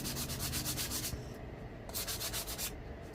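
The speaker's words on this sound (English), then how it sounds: "So I'm just sanding that down today." Steady rhythmic scraping of sandpaper over dried spackle, back-and-forth strokes repeating close up with no pauses or voices.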